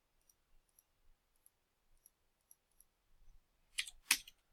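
Two sharp computer clicks land close together near the end, with a few faint ticks before them and no talking.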